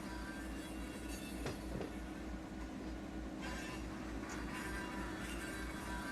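Train cars roll steadily past in Run 8 Train Simulator III, a continuous rumble of rail wagons with faint wheel noise, close and fairly even throughout with no talk.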